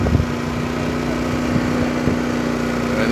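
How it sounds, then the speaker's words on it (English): A generator drones steadily in the background at an outdoor bus show, a loud even engine hum with a constant low tone and a few faint knocks over it. "there is a generator going"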